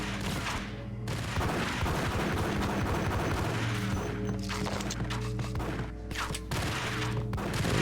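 Two-gun gunfire in the video game Max Payne: dense, continuous volleys of shots and crashing impacts fill the whole stretch, loud and layered over a low droning game score, with no talking.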